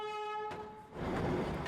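A mountain railway train sounds a steady horn tone that cuts off, then the running train takes over as a loud, broad rumble and clatter of wheels on track close by.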